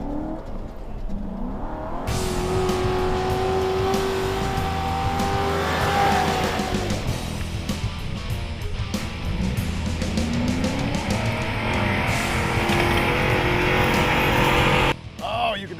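Chevy and Ford police cars tear off-road at speed, engines roaring loud and close with revving, tire squeal and skidding through dirt, running nearly continuously before cutting off near the end.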